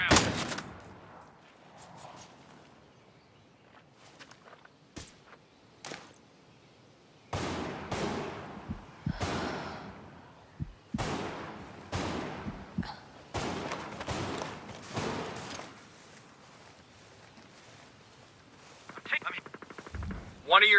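Hostile gunfire in Tom Clancy's Ghost Recon Breakpoint comes as scattered sharp shots and short bursts, some distant and faint, others louder and clustered, with voices speaking in between.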